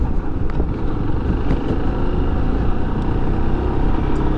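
A Yamaha Ténéré 250 motorcycle rides along Avenida Caxangá, a long, straight city avenue, held at fairly high revs, with a close, continuous engine drone and rumbling wind noise throughout.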